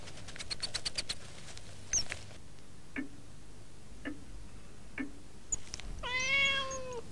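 Domestic cat giving a single clear, drawn-out meow near the end, after a stretch of quiet ticking, patter and scattered faint clicks.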